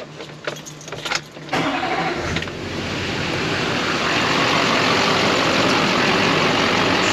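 A car engine starts and then settles into a steady idle with a performance alternator under test, preceded by a few clunks and a jingle of keys; the engine hum grows steady and fairly loud.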